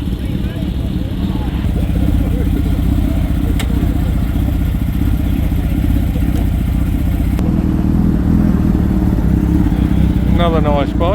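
Motorcycles rumble steadily as riders head off, a loud continuous engine drone filling the scene with people talking over it.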